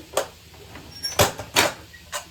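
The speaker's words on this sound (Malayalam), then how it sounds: "അതിൻ്റെ ഇടയിൽ നമ്മൾക്ക് ഇത് കുക്കർ ഒന്ന് തുറക്കാം." A pressure cooker lid being worked open, a handful of short scraping and clunking metal movements spaced irregularly, fairly close with quiet gaps between them.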